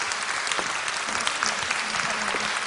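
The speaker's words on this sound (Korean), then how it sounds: "큰 박수로 환영해 주시기" A church congregation gives loud, sustained applause welcoming a pastor's wife to the front, a thick, even wash of many hands clapping from start to finish, with no voices over it.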